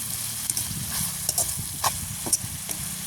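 Ambarella devil being stirred as it fries in a pan, a short close sizzle and hiss broken by a few soft scrapes and clicks of a spoon, with no talking.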